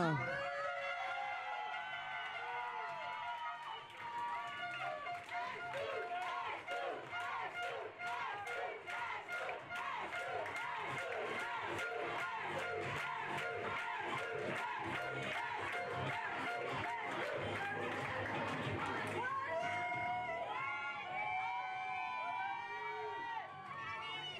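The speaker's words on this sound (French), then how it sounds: "Je vous demanderai de les applaudir bien fort. Voici les coachs." Sustained crowd applause and cheering for the coaches at an equestrian carousel prize-giving, rhythmic clapping with shouts and voices throughout, shifting toward talk near the end.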